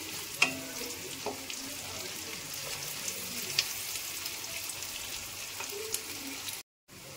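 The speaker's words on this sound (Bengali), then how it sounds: "এখানে পেঁয়াজ আর লঙ্কাটা দিয়ে দিলাম। এটা হালকা পরিমাণে লাল করব।" Chopped onion and green chilli sizzle steadily in a pan, with a few sharp clicks of stirring scattered through a continuous hiss, then a brief break in sound near the end.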